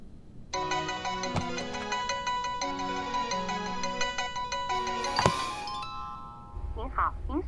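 Mobile phone ringtone sounding as a call rings out, a clear repeating melodic electronic tune heard close and fairly loud for several seconds before it stops, followed by a voice.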